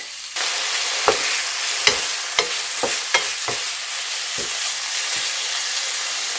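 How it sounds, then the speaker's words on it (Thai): Salted pork belly searing in a pan with a steady loud sizzle and hiss, broken by irregular sharp scraping clicks of stirring, no voices. "เราจะลวนหมูสามชั้นเค็มก่อนนะคะ ให้เข้าหดตัวแล้วก็รีดน้ำมันออกสักนิดหนึ่งนะคะ"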